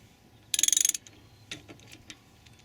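A hand tool is turned to push the rear brake caliper piston back on a Pontiac Bonneville. It gives a short burst of rapid ratcheting clicks, then a few scattered metallic clicks and creaks, close up.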